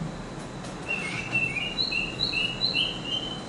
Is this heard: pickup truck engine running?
no